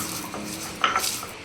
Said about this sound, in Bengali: এবার অল্প অল্প জল দেব আর এগুলোকে আমি বেটে দেব।